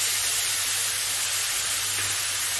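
Spice paste for a fish curry being fried in a pan gives off a continuous dense hiss and sizzle, steady and close, with no voices.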